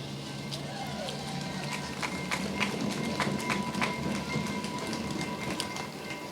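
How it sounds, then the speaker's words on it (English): A train rolls past an outdoor rally, its rumble and rhythmic clatter of wheels over rail joints running steadily under crowd noise and speech. "the train's giving us all a shout out now"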